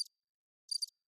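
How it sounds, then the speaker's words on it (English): Cricket chirps from a sound effect, two short, high, trilling bursts separated by silence, faint and isolated. "That's the crickets."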